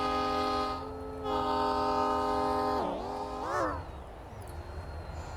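An RS3 locomotive's multi-chime horn in the Roblox railroad game High Iron blows a long, loud sustained chord. It breaks briefly, sounds again, then bends downward and trails off over a low engine rumble.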